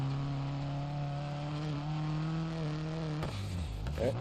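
Rally car engine in the Dirt Rally racing game drones at a steady, loud pitch, then drops sharply into lower revving and shifting near the end, with no voices over it.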